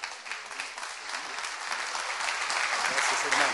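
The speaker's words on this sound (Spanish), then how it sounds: "démosle un aplauso al Señor" Church congregation applauding, dense sustained clapping from many people that grows slightly louder, heard at moderate distance.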